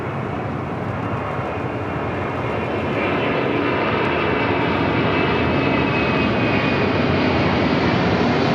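A 30-year-old MD-11 jet rolls down runway 25 left at LAX, a loud continuous engine roar that builds slightly and holds steady, close and unbroken throughout.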